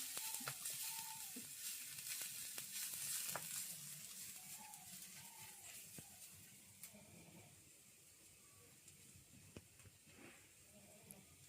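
Fish and local gourd peel frying in a pan in a village kitchen, a steady crackling sizzle throughout with occasional stirring clicks and faint background sounds, no talking.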